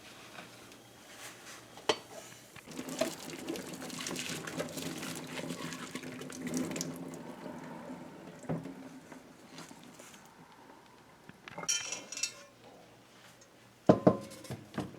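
Boiled salted fish being strained in a home kitchen: water pours and splashes steadily through a strainer for several seconds, with light clinks of a pot and utensils near the end.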